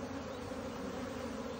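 Honeybees hum in a dense, steady drone during an April hive inspection, close and continuous with no voices over it.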